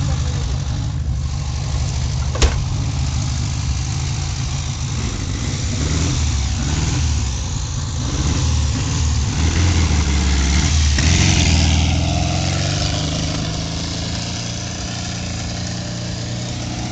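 An old car's engine idles and revs loudly up close before radical stunt maneuvers, a rough continuous rumble that swells and eases, with a sharp knock early on and people talking over it.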